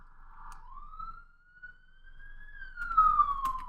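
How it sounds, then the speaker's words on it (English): A single wailing siren sweeps slowly up and then down in pitch, moderately distant, with faint road noise beneath. "You got an ambulance coming down the road here."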